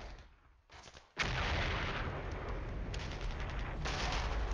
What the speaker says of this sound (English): our barrage against the enemy artillery is showing effect